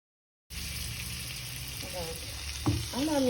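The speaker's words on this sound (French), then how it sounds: "on a mis notre noisette de beurre. La poêle elle est très chaude." A knob of butter sizzles in a very hot frying pan, a loud, steady hiss that starts abruptly and runs throughout, with brief voice sounds near the end.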